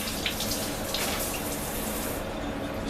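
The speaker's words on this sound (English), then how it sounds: "I'll take the rest of this honey and pour it back in here." Liquid honey being poured back into a container while making sumac-ade, a steady soft trickling and splashing stream that runs continuously and close by, with no voices.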